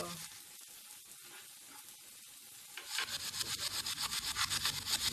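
Onions sauté in a pan for a vegetable lasagna: a faint low sizzle at first, then a run of quick, rhythmic scraping stir strokes, close and fairly loud.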